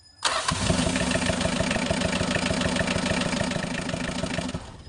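Mitsubishi L300 FB van engine starting, quiet at first, then a sudden loud start that settles into a rough, rapid idle with an uneven pulsing beat close by.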